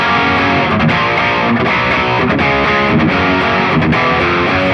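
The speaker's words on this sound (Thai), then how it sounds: "นี่ก็เป็นเสียงแบบว่าเฟเซอร์นะครับ" A loud, distorted electric guitar through a Mooer GE-250 multi-effects processor plays continuously, its tone swirling and sweeping with a phaser effect.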